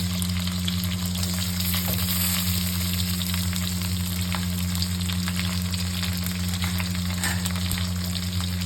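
Capsicum frying in a pan while being stirred for a chilli chicken and fried rice dish, a steady dense sizzle with faint scraping, close and continuous over a low hum, with no talking.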